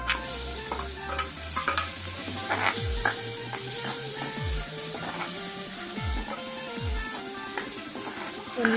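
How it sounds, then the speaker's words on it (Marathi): Paneer fries in a pan, with a continuous sizzle under repeated scraping stirs from a spoon, each stroke close and distinct at an irregular pace. "त्याच्यामध्ये तळून घेऊया."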